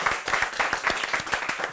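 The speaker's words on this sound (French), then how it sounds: "on applaudit encore Yati Yati très fort" Audience at a comedy show claps, rhythmic clapping from a crowd at moderate volume, fairly close and steady throughout the short burst.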